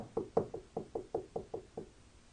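Frantic knocking on a door: about nine quick, sharp raps in a fast, even rhythm, heard alone and slightly muffled.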